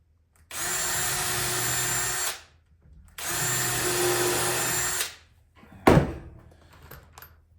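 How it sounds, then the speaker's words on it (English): A power drill whirs in two sustained bursts of about two seconds each while drilling a pilot hole in wood, followed by a short thunk and rattle. "Drill a pilot hole."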